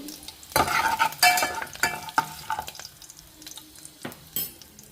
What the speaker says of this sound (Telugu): పప్పుకి పోపు వేగుతోంది